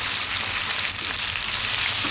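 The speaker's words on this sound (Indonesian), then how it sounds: "kemudian masukkan terasi yang tadi kita bakar." Roasted shrimp paste (terasi) frying in hot oil with red bird's-eye chilies while making sambal terasi, a steady close sizzle that holds throughout without a break.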